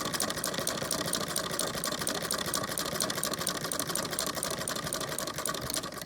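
A sewing machine stitches binding onto a quilt at a slow pace, its needle running in a steady, close, continuous rapid rattle from start to finish.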